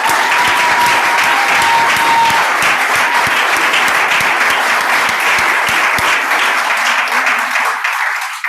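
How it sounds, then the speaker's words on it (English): Loud sustained applause for hospital staff at a Trillium Health Partners gathering, a dense wash of clapping that thins out toward the end. "So just a round of applause for our incredible staff."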